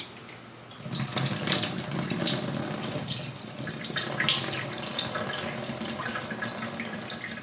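Vegetables are rinsed under a steadily running kitchen tap, the water gushing loudly and continuously into the sink after a brief quiet start, with no voices.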